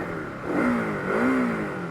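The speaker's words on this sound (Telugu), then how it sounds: "ఇంజన్ కూడా సౌండ్ కూడా మంచిగా ఉంది" A KTM Duke 250 motorcycle engine revs twice, rising and falling in pitch, close by with a steady idle between the revs, on a rural village trail.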